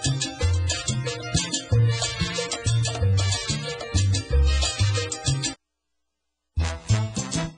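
A song airs on an afternoon radio show, full band music with steady rhythmic bass and dense upper layers, cutting to a second of silence before the music resumes.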